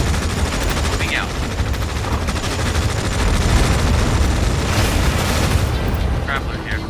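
Dense continuous battlefield gunfire and distant booms from the real-time strategy game Tom Clancy's EndWar, a steady loud rattle of fire with brief chirps and swells over it.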